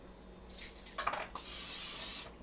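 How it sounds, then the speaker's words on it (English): Pam cooking spray sprayed into a pudding basin: a couple of short hissing bursts followed by one longer, louder continuous spray, close up with no talk. "I always spray it with Pam, because that helps it get out of the basin more easily"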